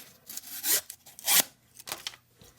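A flat-ground M390 steel pocket knife slices through cardboard in several quick, raspy cutting strokes, close and crisp with short pauses between them.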